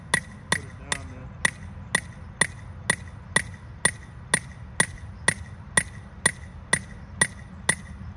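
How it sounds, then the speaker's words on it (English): Sharp metallic hammer strikes on a heavy-duty metal stake, evenly spaced about twice a second, loud and close, continuing steadily with no talk. "Hit the stake, the actual stake."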